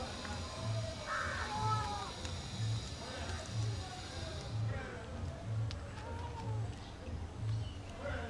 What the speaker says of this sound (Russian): Там вот вороны у них еще.